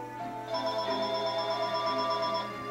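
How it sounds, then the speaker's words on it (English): A mobile phone rings with a steady electronic tone that holds unbroken for a couple of seconds, fairly loud and close, with no talking over it. "I forgot to turn off my phone"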